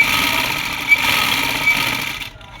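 A sewing machine runs a seam on palazzo pants, a steady close hum with faint ticking, then cuts off just before the end.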